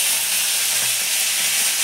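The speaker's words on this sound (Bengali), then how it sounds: "এবার সবজিগুলো ভেজে নেবো" Onion, capsicum and tomato fry in hot salted oil in a pan, a close, continuous crackling sizzle and hiss with no talking.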